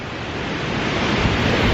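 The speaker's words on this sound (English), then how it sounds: "Look at the waves." Ocean waves crash steadily on the rocky north shore of Cozumel, a loud, continuous broadband roar of surf with wind, no voices.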